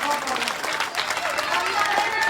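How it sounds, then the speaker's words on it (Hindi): Dense, steady clapping from a crowd at a Hindi-speaking religious gathering, filling the whole moment without a break, with voices mixed in underneath. "जोरदार ताली हो जाएंगे"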